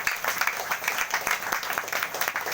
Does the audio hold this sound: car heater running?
no